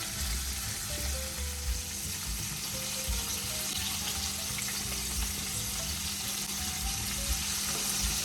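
Chicken pieces for a zinger burger fry in hot oil with a steady, dense sizzle that holds evenly throughout, close and moderately loud.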